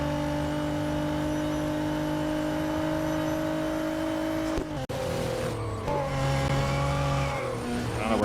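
A race car in the video game Real Racing 3 runs off the track: a loud, steady engine whine drops abruptly midway with a brief cut, then picks up again at a shifted pitch, with no voices.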